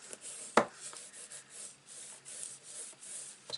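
Paper being rubbed down by hand onto a notebook cover, a soft continuous scratchy rubbing with one sharper tap near the start, close and quiet.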